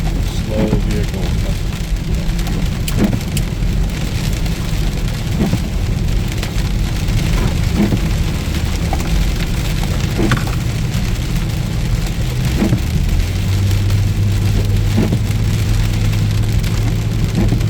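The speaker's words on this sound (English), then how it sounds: "It's raining pretty hard again though." Heavy rain drumming on a Volvo V70 XC AWD while driving up Mount Baldy, a dense, loud, continuous wash with low road rumble underneath and occasional thuds.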